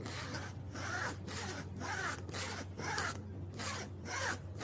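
The zipper on a long wallet is pulled in a quick series of about nine short, rasping strokes at an even rhythm, close and quiet, with no voices.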